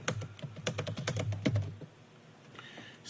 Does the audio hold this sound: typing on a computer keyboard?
yes